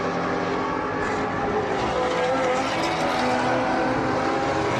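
A light blue Porsche race car at Sebring Raceway roars steadily through a wide, bumpy corner entry, its loud engine note sustained with broadband rush throughout.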